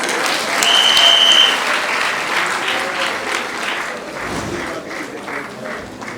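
A conference audience at the APWEN 2021 opening ceremony breaks into loud, sustained applause, many hands clapping together and gradually thinning over several seconds.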